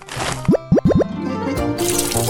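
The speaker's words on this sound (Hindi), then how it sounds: "कैंडी को यहाँ डालता हूँ और फिर इसमें पानी" Water poured onto candy gives four quick, bubbly plops in a row, then a softer, fizzing wash of liquid.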